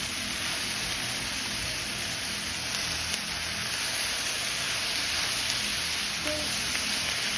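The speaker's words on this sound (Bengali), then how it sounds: "এখন আমি ভাজা ভাজা করে নেব" Chopped okra fries in a pan with a little oil, giving a continuous, even hiss and crackle like steady rain, close and unbroken, with a faint clink near the end and no voices.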